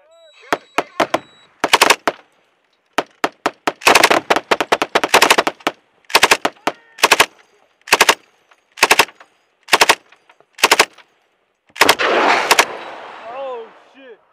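Machine gun fire during a US Marine engagement at Kajaki, Helmand, Afghanistan: loud, close bursts of rapid automatic fire separated by silent pauses, with radio chatter and voices in between.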